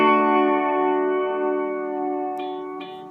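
Electric guitar run through a modulation effect from a touring rig, a sustained chord wobbling with vibrato and chorus shimmer, loud and alone, with two brief brighter picked accents near the end.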